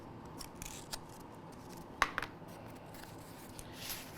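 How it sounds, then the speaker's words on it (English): A pair of quick, crisp scissor snips trims rough edges of cotton material while packing a museum collection item; the cuts come close together and stand out against a quiet, hissy room. "you just might want to just trim off any sort of rough edges"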